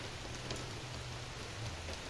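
Steady rain falls on a mountain farm in dense, even patter across the whole stretch, with no voices.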